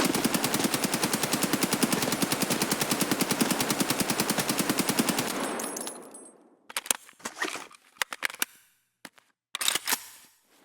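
Sustained rapid automatic fire from an AK-103 rifle without recoil compensation in Escape From Tarkov, a dense loud burst for about five seconds, then a few short clicks and handling clatters.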